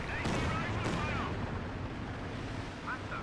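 Katyusha rocket barrage firing in Company of Heroes 2, a dense rumbling roar of launches and blasts that rolls on steadily for the whole stretch, with faint voices underneath.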